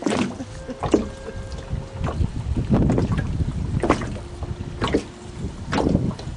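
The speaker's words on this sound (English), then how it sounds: "Dealing with all this wind." Wind gusting around a small fishing boat while bass fishing on the Central Coast, loud buffeting rumbles battering the microphone in repeated bursts, with no talking.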